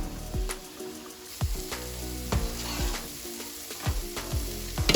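Boiled potatoes drained from a pot, with a hissing, splashing rush of water and irregular metallic clanks and knocks of the pot and lid against the sink, close and moderately loud.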